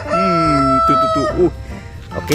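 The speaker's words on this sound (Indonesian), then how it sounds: "Ini ada ayam berkokok." A toy egg lets out a loud, close electronic rooster crow, one drawn-out cock-a-doodle-doo lasting under a second, followed by a short spoken remark.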